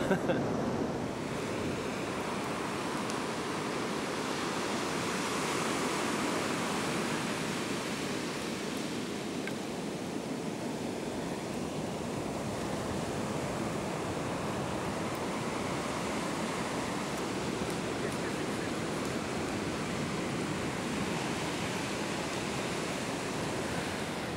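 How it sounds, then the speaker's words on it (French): Rough, storm-tossed sea breaks steadily against the shore while wind buffets the microphone, a loud, continuous roar of surf with no pause for the full length. "avec une mer démontée comme ça"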